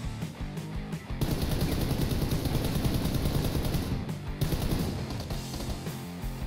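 Vector submachine gun firing in PUBG, a dense sustained burst of rapid shots that stops briefly and then resumes, loud and close.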